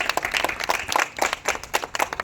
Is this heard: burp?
no